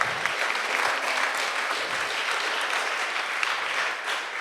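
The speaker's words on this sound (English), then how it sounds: "Let's give her a round of applause." A crowd at a pledge signing ceremony in Guam gives a steady round of applause that holds at an even level for several seconds.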